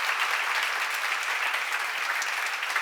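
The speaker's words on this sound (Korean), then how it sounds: "박수 세게 쳐요. 진짜예요, 여러분." An audience at a church seminar on John chapter 6 applauds loudly in a dense, continuous burst of clapping.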